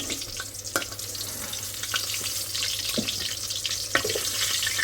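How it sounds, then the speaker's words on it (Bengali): Okra frying in a pan with onions and dried chilies, a steady close sizzle broken by sharp ticks and scrapes of a spatula stirring, getting slightly louder toward the end. "এগুলো ভেন্ডি ভাজি করে নিতেছি"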